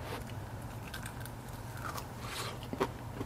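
Bite into a small piece of homemade Japanese karaage, deep-fried chicken squeezed with lemon, giving a single crisp crunch near the end, close and fairly quiet over a low steady background hum.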